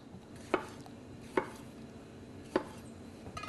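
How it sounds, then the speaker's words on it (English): A sharp knife cuts tomatoes on a board, making three distinct, crisp knocks at uneven intervals against quiet kitchen background. "a knife that's sharp cuts right through and doesn't bruise the tomato"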